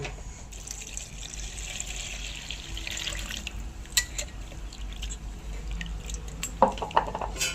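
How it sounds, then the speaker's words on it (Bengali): Running tap water splashing into a sink as fish is washed, with a few brief clinks and handling sounds near the end; no talking. "এবার মাছটা ধুয়ে নেব।"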